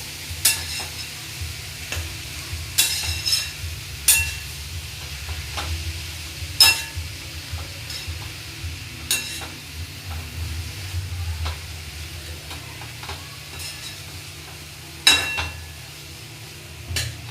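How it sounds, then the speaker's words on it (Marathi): Fresh jawla, small wet shrimp, sautéed with spices in a pan, giving a steady low sizzle with scattered spoon scrapes and clinks against the pan, close and moderately loud, with no talking. "परतून आता घेऊया व्यवस्थित सर्व मिश्रण एकजीव करायचं आहे सर्व मसाले त्याला व्यवस्थित लागले पाहिजे"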